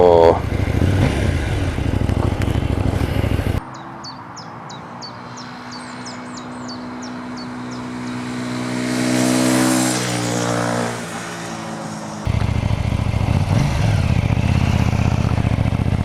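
A KTM Duke 790 motorcycle engine revs up and settles in the middle of the clip, rising to a louder swell around two-thirds through, while a voice talks over the start and end.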